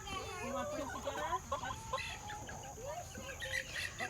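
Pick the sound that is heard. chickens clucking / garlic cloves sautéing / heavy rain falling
chickens clucking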